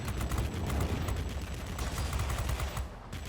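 Rapid bursts of cannon fire from a Tier IX American Vought F6U Pirate fighter in World of Warplanes, dense crackling gunfire rolling continuously over engine drone, loud and close for about three seconds with no talk.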